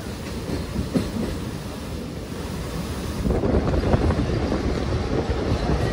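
A steady low rumble of the Teesta Torsha Express crossing a bridge, with a rushing, wind-like roar that swells louder about halfway through.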